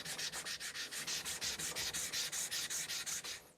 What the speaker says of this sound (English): bevel flaps against the stone, same way that you would as if you were thinning it.